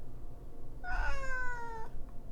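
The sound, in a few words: cat meowing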